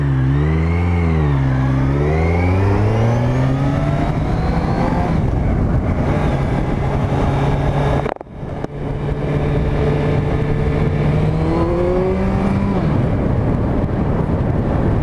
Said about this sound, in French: Je vais essayer de vous faire entendre le moteur.